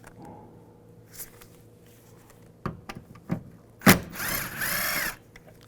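Bolts being backed out of the taillight housing on a 2015-2020 GMC Yukon with a T15 socket on a power driver: short bursts of whirring near the end, with a few clicks and taps earlier, close and fairly quiet.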